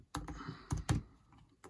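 Computer keyboard typing in short bursts, a few clustered keystrokes with brief pauses between, close and moderately loud with no talking.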